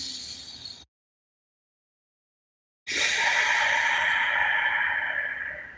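Deep breathing during a qigong relaxation session: one short breath, a pause of silence, then a long, close, airy exhale sustained for several seconds, with no talk.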